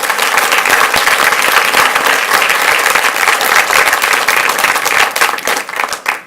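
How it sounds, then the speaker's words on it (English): Sustained audience applause fills a school board meeting, dense and steady clapping from a crowd that carries on for several seconds before thinning out near the end. "let's give one more round of applause and honor"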